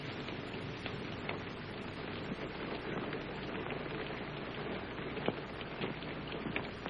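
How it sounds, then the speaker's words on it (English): Steady rain falls throughout, a dense even hiss of drops on surfaces with occasional louder nearby splashes, no voices. "It's only the rain."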